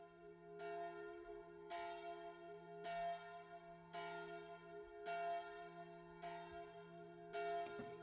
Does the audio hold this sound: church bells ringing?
yes